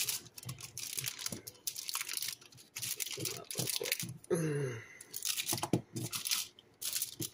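Frozen chocolate candy balls being pried loose from wax paper, giving a run of crinkly, crackling paper-and-candy sounds close by, with brief talk in between.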